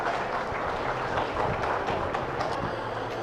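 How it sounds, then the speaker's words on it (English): Audience applause in an arena during a 4-H and FFA Hereford steer class show, steady, dense clapping that holds at an even level for the whole stretch, with a broad noisy crowd wash and scattered sharper claps. "let's give a nice round of applause"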